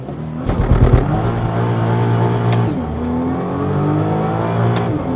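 Nissan GT-R launch control start, the engine held near 4,000 rpm before a hard take-off and sustained loud acceleration, with a steady climbing engine drone through several gear changes.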